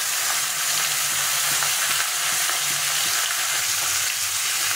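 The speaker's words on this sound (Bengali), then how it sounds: "তারপরে মাছগুলোকে ভেজে নেব। সবগুলো মাছ দিয়ে দিলাম একবারে।" Several fish sizzling and frying together in oil in a pan, a steady dense crackle with faint stirring, close and continuous throughout.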